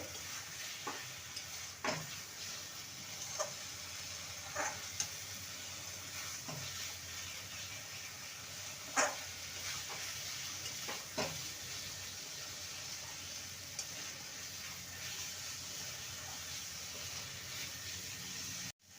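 Spice paste frying in oil in a pan, a steady soft sizzle running throughout with occasional louder pops and stirring scrapes, no voices.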